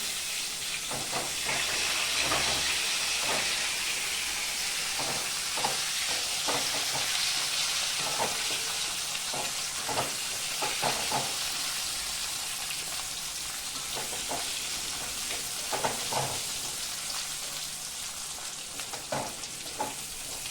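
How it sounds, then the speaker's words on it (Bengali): Potatoes fry gently in mustard oil in a pan, a steady hissing sizzle throughout with repeated spatula scrapes and taps at irregular intervals, close by. "এই যে আলুটা ভাজছি"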